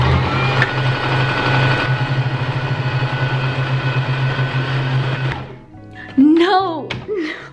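A sewing machine runs without thread, giving a steady mechanical whirring hum for about five seconds before stopping abruptly. A voice then exclaims briefly.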